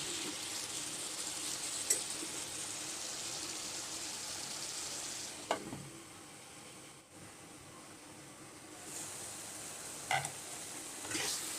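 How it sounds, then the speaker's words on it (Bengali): Boiled vegetable stalks fry in their own leftover water in a pan, a faint steady sizzle and hiss with a few soft stirring knocks, the bubbling easing midway and then returning. "এই পানিটাই আমরা শুকিয়ে একদম ভাজা ভাজা করে নেব।"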